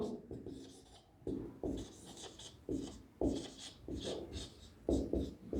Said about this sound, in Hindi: इसको लिखता हूं